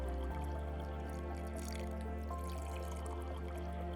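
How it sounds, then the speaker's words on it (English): Room temperature water poured onto coffee grounds for cold brew, a steady close trickle and drip with a continuous liquid hum and no talking. "this is room temperature water that I'm just pouring on top"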